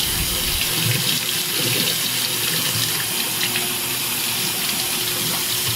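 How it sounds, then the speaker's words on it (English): Hot tap water runs through the flipped-open shave heads of a Philips Norelco 3100 electric shaver, a steady, close, hissing gush with no break and no voices. "And then you run hot water all through that."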